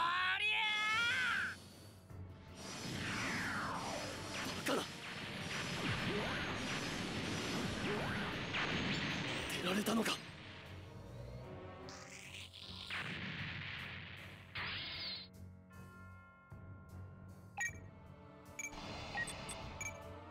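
Missile launches and explosions in SD Gundam G Generations Crossrays, a burst of whooshing fire and crashing impacts with sweeping tones, loud at first then thinning into scattered metallic hits and effects.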